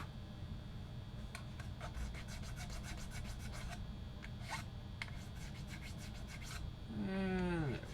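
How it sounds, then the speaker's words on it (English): Sandpaper scuffs black paint off an Epiphone Junior guitar body in steady back-and-forth rubbing strokes, close and fairly quiet, with a brief whistly squeak near the end. "We just scuffing down that little bit of that black paint."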